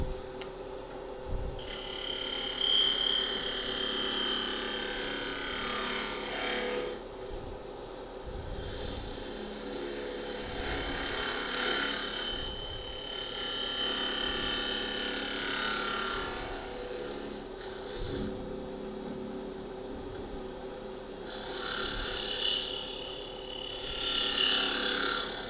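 Carbide tool cutting cedar wood on a lathe while turning a globe Christmas ornament, a steady close mechanical hum with scraping bursts that swell and fade through the cut, no talk.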